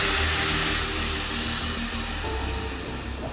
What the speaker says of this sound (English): This is the vacuum pump that works with air